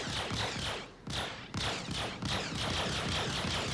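Distortion repeater guns firing at a ship in a space video game, rapid rhythmic bursts of buzzing, crackling shots in several sustained volleys, loud and close with brief pauses between.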